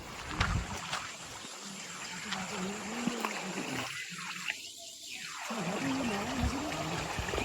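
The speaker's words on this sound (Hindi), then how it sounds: "पानी बह रहा है ना नीचे" A jungle stream trickles and flows quietly in the distance, a faint, steady wash of water with a few soft splashes and no clear voices.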